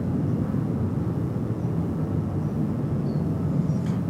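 An American Airlines Boeing 737-800 jet takes off at DFW Airport, its engines a steady, broad, low roar that holds even and fairly loud throughout, with no voices.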